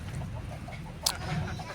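Free-range village chickens on a farm where Cemani and Pelung breeds are kept give a single brief, faint cluck over low background rumble.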